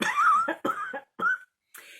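A few harsh, throaty coughs in quick succession, close by, separated by brief pauses and a breathy exhale at the end.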